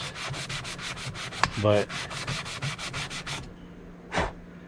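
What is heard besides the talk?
sanding plastic mirror surface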